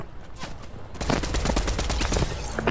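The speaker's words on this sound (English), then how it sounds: "I'm getting shot at from behind." Rapid gunfire in Fortnite rattles out as a dense, loud burst of overlapping shots, firing in quick repeated cracks close by for most of the moment, with no talking.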